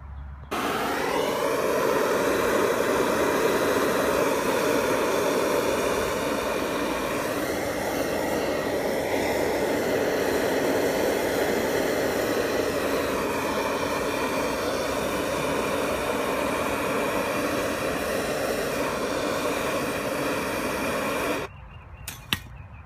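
A propane-style torch roars steadily for about twenty seconds, heating a stuck riding mower wheel on its axle, a continuous close hiss with slight shifts in pitch before cutting off abruptly.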